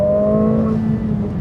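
A 2025 Mercedes-AMG CLA 45 S in Sport Plus mode accelerates hard under full throttle, its engine making a loud, close, sustained droning roar heard from inside the car with no talk.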